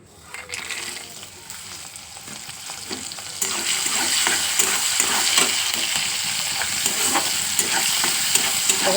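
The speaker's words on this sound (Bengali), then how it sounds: "ভালো করে ভেজে নেবো তো দেখতেই পাচ্ছি এখানে কত সুন্দর ভাজা হয়ে গেছে বাদাম আর লঙ্কাগুলো" Peanuts and chopped green chillies fry in hot oil left from frying potatoes for a sago pulao, a steady close sizzle that swells louder after a few seconds, with stirring scrapes and no talk.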